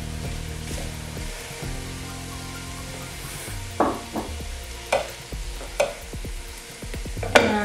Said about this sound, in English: Brown the ground beef. Break it apart so that it's not into big chunks.